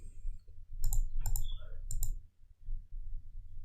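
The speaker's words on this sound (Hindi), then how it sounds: "अब मैं यहाँ क्लिक कर रहा हूँ" A computer mouse gives several sharp clicks, some single and some in quick pairs, close to the microphone over a low hum of room noise. It is used while a thumbnail is made on a web design site.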